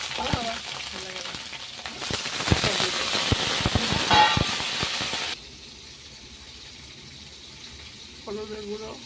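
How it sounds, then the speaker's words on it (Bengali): Garlic and potatoes sizzling in hot tempering oil for a fish curry, loud, steady frying hiss with stirring clatter that cuts off sharply partway, leaving a quiet background and a brief voice at the end. "এই দেখুন আমার রসুনটা ফোড়নে দিলাম, আলুটা দিয়ে দিলাম"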